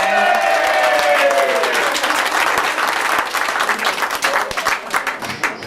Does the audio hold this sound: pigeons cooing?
no